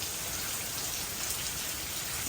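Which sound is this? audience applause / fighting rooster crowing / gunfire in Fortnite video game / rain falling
rain falling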